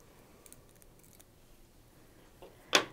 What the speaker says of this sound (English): trim off my tag ends.